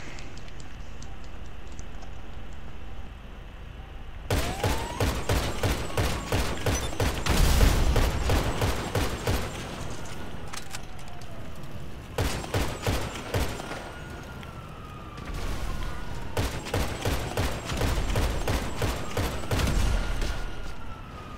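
Grand Theft Auto V gunfire with explosive ammo, long rapid volleys of loud close shots in several bursts, with a wailing siren rising and falling underneath.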